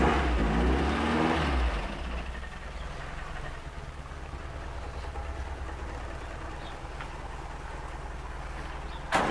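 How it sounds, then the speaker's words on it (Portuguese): An old Willys car engine revs loudly at first, then settles into a steady, rough idle rumble that runs on alone until a brief bump at the end. "Olha o ronco do motor."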